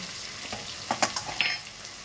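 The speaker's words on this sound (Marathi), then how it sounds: "आता चांगला लाल परतून द्यायचा" Food sizzling and frying in a pan as it browns for pav bhaji, a steady hiss close by with a few brief stirring scrapes and clinks near the middle, no voices.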